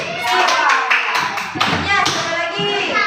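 Children in a class clap their hands together, a short burst of loud, quick, uneven claps close by, with a voice speaking over the claps.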